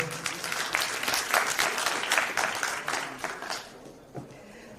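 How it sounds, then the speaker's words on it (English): A summit audience applauds a speaker at an economics event, a rich burst of many hands clapping that builds, holds, then fades away into near quiet at the end. "A round of applause for Rose Abunda."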